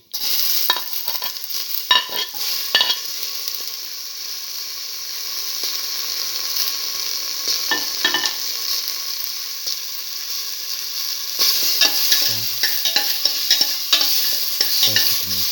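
Tomato pieces fry in a pan with a steady sizzle, broken by repeated scraping and clattering as a utensil stirs them, the stirring busier near the end.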